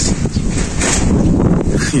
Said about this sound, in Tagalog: ang hangin. Napakalakas.